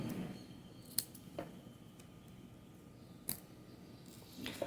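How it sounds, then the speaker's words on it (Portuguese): Scissors snip through crochet yarn made of t-shirt fabric strips with a few sharp, quiet clicks spaced apart against a soft room background, close up and without talk. "Então, vou cortar aqui o meu fio."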